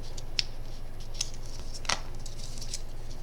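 Scissors snipping through material in a small craft tutorial, three or four crisp, close cuts spaced out over a steady low room hum, with no talking.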